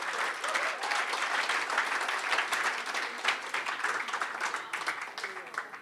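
An indoor audience at a swimming club's awards evening claps continuously, a dense, even round of applause from many people that stays steady, then thins slightly toward the end.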